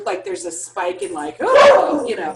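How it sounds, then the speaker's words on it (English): A dog barks and yips loudly, close by, with a burst of excited bow-wows and a whimpering tone that overlap a person talking in an indoor room. "sorry, that's the dog"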